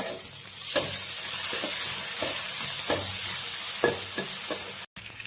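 Ginger-garlic paste fries in a hot pan with a steady, close sizzle while a spoon stirs and scrapes it in repeated strokes, no voices over the cooking.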